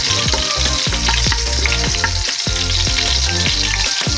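Garlic sautéing in hot oil in a pan makes a loud, continuous sizzle close by, broken by repeated scraping strokes as it is stirred, with no voices.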